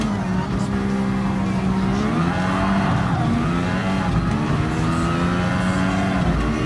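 Senna's Lotus 97T race car in Gran Turismo Sport roars loud and close, its engine revving up and down through gear changes with a brief tire squeal, continuous throughout.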